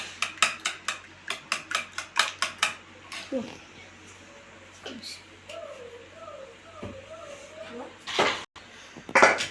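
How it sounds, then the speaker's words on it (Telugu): A spoon stirs green chillies into omelette egg mixture in a bowl, giving a quick run of rhythmic clinks against the dish. A voice then talks over quieter scraping and a few sharper knocks. "ఆమ్లెట్లోకి 4 పచ్చిమిర్చి వేసుకొని కలుపుకుంటున్నానండి."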